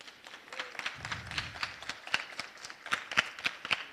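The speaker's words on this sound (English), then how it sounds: "We applaud you." Sparse, evenly spaced claps from a small council meeting audience after a band is recognized, each clap sharp and distinct with quiet gaps between them, fairly close and moderately loud.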